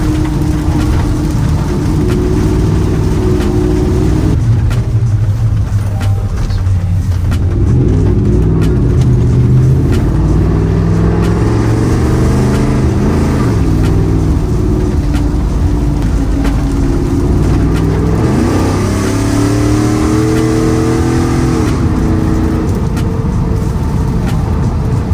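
A loud tuned, lifted Ford F150 with a 5.0 engine on an E85 tune revs through hard pulls from inside the cab, the engine note climbing and dropping repeatedly in strong rising sweeps.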